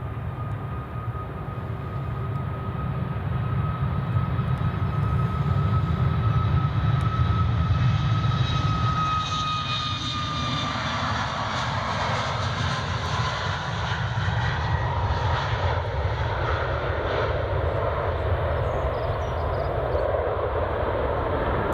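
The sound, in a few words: Boeing 737 MAX jet departing Edinburgh Airport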